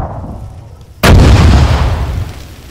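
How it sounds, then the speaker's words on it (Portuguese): A bomb detonates in a video game with a sudden, loud, close blast after a quiet moment, then a heavy roaring rumble that slowly fades. "A bomba explodiu na minha frente."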